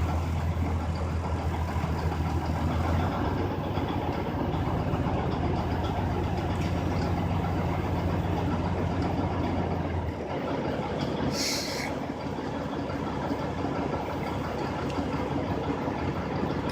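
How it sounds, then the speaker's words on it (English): A truck's diesel engine idles and revs during an air brake system check, a broad steady rumble that swells and settles, with a brief hissy burst near the end. "So what we're going to do is we're going to rev it up."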